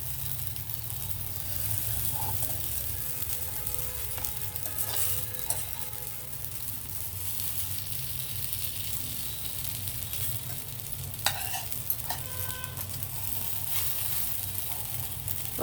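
Chicken parcels frying in a pan, a steady hiss of oil with occasional light scrapes and clinks as they are turned, close and continuous without speech.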